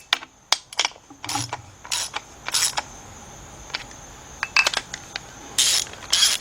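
A hand ratchet snugs down cylinder head bolts on a Chevy Equinox or Buick Rendezvous engine during a head gasket rebuild. It gives close, irregular bursts of sharp clicking with brief pauses and no talk.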